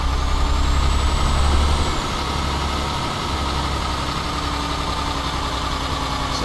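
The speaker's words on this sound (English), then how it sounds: "We've got some engine sounds." Heavy truck engine in Euro Truck Simulator 2 with an Ultra Sound mod, a steady low diesel rumble with a brief air-brake hiss early on, continuous and fairly loud with no talking.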